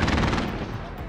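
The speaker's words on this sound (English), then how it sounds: "Sentry gun is hitting him." A sentry gun in Call of Duty Warzone fires a rapid, continuous burst of loud automatic shots, fading slightly toward the end of the brief moment.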